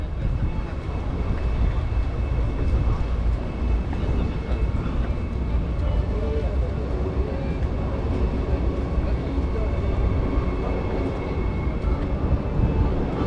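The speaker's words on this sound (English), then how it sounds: "Just right outside the train station." Dense, steady low rumble just outside the train station in Cologne, with rolling train noise and indistinct voices blending into a continuous, fairly loud wash.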